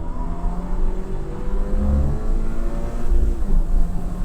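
Toyota GR86 engine revving on a racetrack in track mode, a steady engine drone that rises and falls in pitch as the car pulls through corners, close and continuous with no talk.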